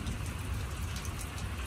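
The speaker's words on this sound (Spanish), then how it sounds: "Hoy está lloviendo en Dallas, Texas." Steady rain falls on a patio in Dallas, Texas, a soft continuous hiss with scattered drips, faint and even throughout, with a low rumble in the background.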